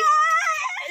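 A dog at the beach gives a high, thin whine, one continuous tonal cry lasting under a second, near and fairly loud, with no talk over it.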